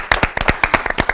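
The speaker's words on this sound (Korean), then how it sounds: "오늘도 여전히 힘찬 박수" Audience clapping during a CBS Bible lecture hall session, a brief burst of loud, energetic rapid claps close by, with no talk over it.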